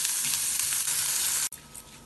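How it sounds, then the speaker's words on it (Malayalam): Raw rice and dal stir-frying in a pan over low heat for Ven Pongal, giving a steady close sizzle with soft stirring scrapes that briefly cut out near the end. "ഇതിന് കുറച്ച് സമയം തീ കുറച്ച് ഇളക്കി വറുത്തെടുക്കാം"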